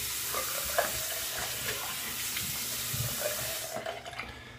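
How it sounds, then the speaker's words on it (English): Running tap water splashes steadily into a sink during a rinse after a soap test, a continuous close wash of sound that cuts off near the end. "I'm going to rinse."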